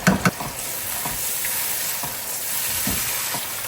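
Buffalo fish frying in hot oil with ginger-garlic paste gives a steady, close sizzle and crackle, with a couple of sharp spatters and stirring scrapes near the start.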